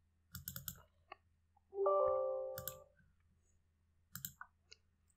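Computer mouse clicks in a quiet room, three short bursts of rapid clicking spaced apart, with a brief tonal beep in between.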